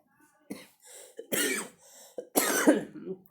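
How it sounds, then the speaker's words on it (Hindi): A person coughs several times in harsh bursts, with throat clearing between them; fairly loud and close. "खांसी हो गई बीच में"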